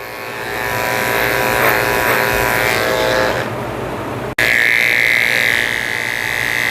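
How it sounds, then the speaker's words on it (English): Electric dog clipper fitted with a 10 blade shaving the fur at the eye corners of a Shih Tzu-Poodle, a steady close buzzing hum that dips briefly and cuts out for an instant before resuming, with no talk. "I'm using my 10 blade to shave out the corners of his eyes."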